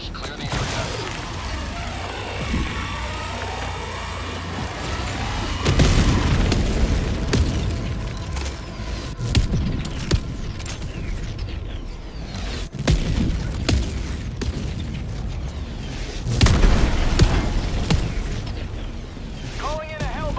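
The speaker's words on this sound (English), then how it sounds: "Firing orbital barrage." Orbital barrage in the video game Helldivers 2, heavy booming explosions rolling one after another over constant battle noise and mechanical clatter, loud and sustained, with voices calling out over the blasts.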